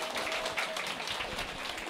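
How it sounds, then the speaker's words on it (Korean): Quiet, continuous clapping from a seated audience welcoming a lecturer at a Korean Atomy company seminar, soft and somewhat distant with a faint tonal hum underneath. "큰 박수 부탁드립니다."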